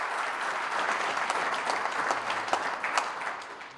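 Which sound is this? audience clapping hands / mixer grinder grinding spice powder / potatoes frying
audience clapping hands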